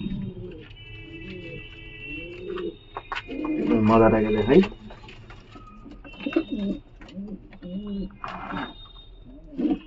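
Jhapar Kashmirduma giribaz pigeons, an active male and a female, coo in soft low bursts close by, mixed with other bird calls and a louder flurry of movement midway, while someone talks over them.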